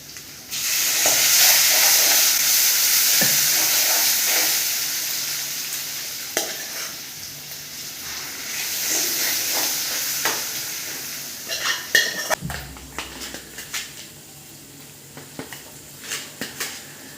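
Cooked tomatoes hit a hot pan with asafoetida and turmeric and sauté with a steady close sizzle, while a spoon stirs and scrapes against the pan in scattered clicks and knocks.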